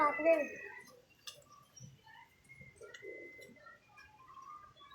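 A commando pigeon cooing in short low soft bursts amid faint chirps, with a person speaking briefly at the start before the cooing continues quietly.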